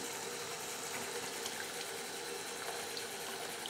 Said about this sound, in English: We're just rinsing that off, making sure that the water goes through the leca at the back and the leca at the front.